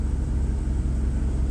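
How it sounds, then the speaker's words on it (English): BMW engine with all catalytic converters, a resonator delete and an aftermarket muffler, idling steadily with a smooth, low, continuous exhaust rumble up close. "it idles real nice now. Runs nice and smooth, and the exhaust sounds pretty good."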